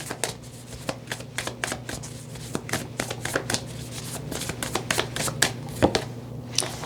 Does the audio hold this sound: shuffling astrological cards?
yes